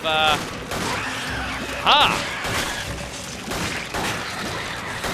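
Gunfire in the video game Resident Evil 5, several sharp shots and impacts amid busy game noise and electronic tones, loud and close.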